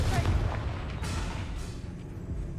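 Confringo spell explosion in the Hogwarts Legacy video game, a booming blast followed by quieter crackling impacts and a second burst, moderately loud with game sounds underneath.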